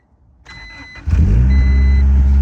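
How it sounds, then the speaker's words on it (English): A Honda Integra engine cranks briefly with a chirping beep, then catches and settles into a loud, close idle whose deep exhaust rumble carries the rasp of an exhaust leak; no one speaks. "So now I'm gonna crank it and I'll be able to hear if it leaks"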